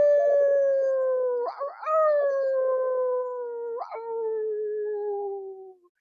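A person imitates a wolf howl during a yoga class: a long, loud, sustained vocal howl with a few short breaks and pitch rises, alone without other talk.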